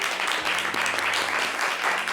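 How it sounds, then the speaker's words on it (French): A studio audience at a French variety show applauds loudly and steadily, a dense unbroken wash of clapping that holds for the whole stretch, with faint low tones underneath. "On applaudit très très fort."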